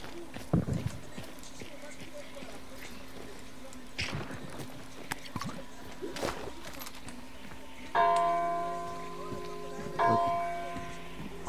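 In the Hunt: Showdown game, a bell rings twice near the end, each strike a clear metallic clang fading out slowly. Game footsteps and thuds come before it, and people talk over the scene.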